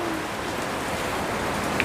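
Steady rain falls as an even, hissing wash that holds at the same level throughout, with no voices and no other distinct sounds.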